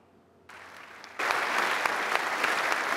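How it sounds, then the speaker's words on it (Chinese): The US Congress gives a standing ovation after Ukrainian President Zelensky's video address. Faint room tone gives way to rising applause, which swells into sustained, loud, dense clapping from a large crowd filling the chamber. "美国国会起立鼓掌1分钟"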